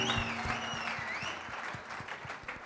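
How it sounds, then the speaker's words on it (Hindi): Applause from a crowd at a film success party rings through a room at a fairly low level. Steady clapping mixes with a whistle, and a low musical hum sits beneath it. "जोरदार तालियां, कम ऑन।"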